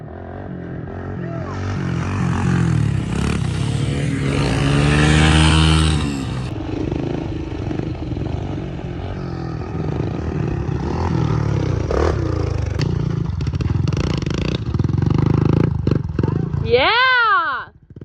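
Pit bike motorcycles ride on a trail toward a hidden lake, engines droning loudly and near with rising revs and clatter, a voice speaking over the ride and a whistle-like squeal near the end.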